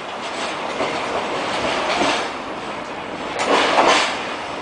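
A freight train rolls steadily through a snowy station on a cold day, its wheels giving a continuous rumbling clatter with occasional metallic squeals, loud and close throughout.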